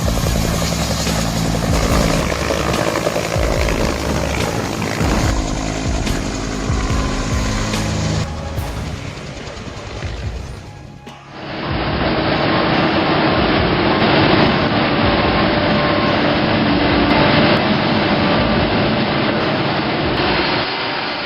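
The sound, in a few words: Huey helicopter taking off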